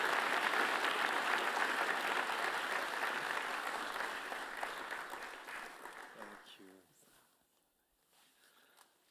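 Audience applause in a congress hall at an ISU figure skating meeting in Lausanne, steady and moderately loud at first, then thinning out and fading to silence after about six seconds.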